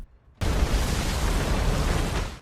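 A huge explosion erupts after a brief near-silent lead-in, then a sustained roaring, rumbling blast fills the rest of the moment, loud and dense with no voices, as in an animated fantasy story where a level 9 spirit master levels a camp.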